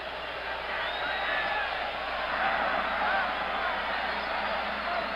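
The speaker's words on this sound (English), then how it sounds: "Crowd over talking as Pittsburgh takes their time" Steady crowd roar fills a stadium before kickoff at the 1977 Gator Bowl between Pittsburgh and Clemson, a dense, continuous murmur of a large audience with scattered whoops and shouts rising and falling throughout.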